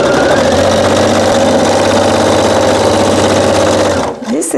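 A sewing machine runs a straight stitch diagonally across a quilt, making a loud, steady close-up whir with a fine rapid rhythm that stops abruptly near the end.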